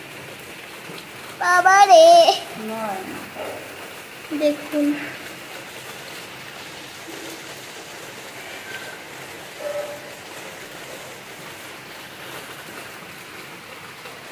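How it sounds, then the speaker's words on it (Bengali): Heavy monsoon rain drips from a large mango tree outside a kitchen window, a steady soft patter throughout, with a voice and brief speech near the start. "আরে দেখুন এখান থেকে বৃষ্টি পড়ছে, পানি পড়ছে, জল পড়ছে"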